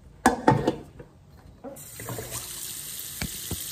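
Water poured into a cooking pot to boil corn: a few clattering knocks come first, then a continuous rushing, splashing stream of water that runs steadily to the end.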